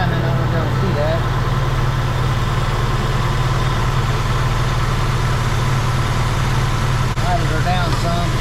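A 1976 Chevy LUV engine with an electric choke runs steadily at idle while its timing is adjusted, a continuous low rumble, close and loud, with people talking over it.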